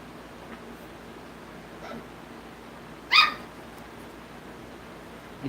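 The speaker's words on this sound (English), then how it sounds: "If you hear the barking, it's my little puppy that we just got recently." A young puppy gives a single short, sharp yip off to the side at moderate distance, with faint softer whimpers before it in an otherwise quiet room.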